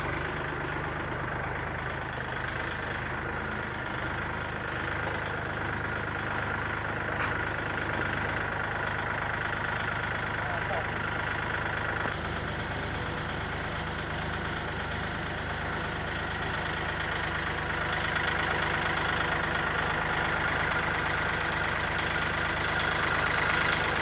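A tractor engine idles steadily with a low, continuous rumble, unchanging and fairly close, running alone for the whole stretch with no talk.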